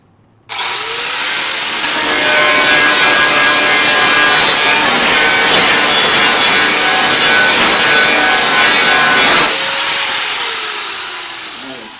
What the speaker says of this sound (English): Clean them up with a flapper disc.